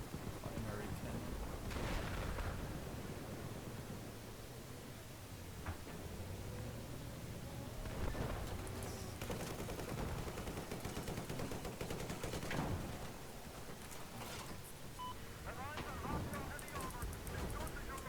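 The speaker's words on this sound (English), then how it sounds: "The secondary machine gun, primary cannon." LAV vehicle fire in Battlefield 4: continuous dense bursts from the primary cannon and secondary machine gun, loud and close, with a voice talking throughout in a chaotic battle mix.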